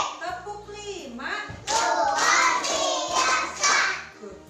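Children in a classroom clap their hands in counted rhythm, sharp claps bursting out in short groups between spoken counts, loud and close with a teacher's and kids' voices around them.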